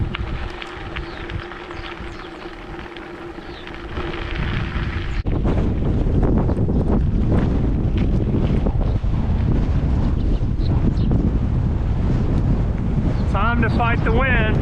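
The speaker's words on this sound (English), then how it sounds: "Time to fight the wind." Strong wind buffets the microphone on a gravel bike ride along a quiet two-lane country road near Gainesville, Texas. A low, steady roar grows louder partway through and then holds, with a few brief chirps near the end.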